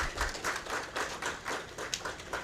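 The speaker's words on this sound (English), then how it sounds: "Please give me a round of applause." A crowd at a governance summit claps for a government minister, a moderate, fairly distant patter of applause with uneven rhythm throughout.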